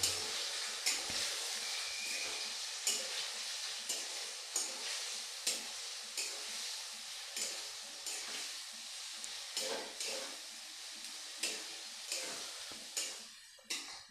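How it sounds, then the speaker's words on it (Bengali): Pumpkin paste is stirred in a pan while red amaranth greens cook, giving a soft, continuous sizzle broken by regular scraping strokes of a spoon against the pan, quiet and close. "দিয়ে আমি এবার একটু একে নাড়াবো"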